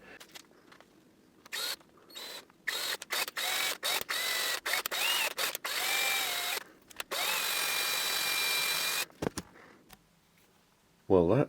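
M3 threads are tapped into holes in a steampunk chronometer kit part, heard as a run of short motorised whirring bursts with stops and starts, close and fairly quiet, with someone talking at the very end.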